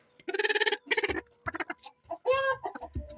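Turkeys in a coop giving loud, close gobbling and clucking calls in quick, irregular bursts one after another.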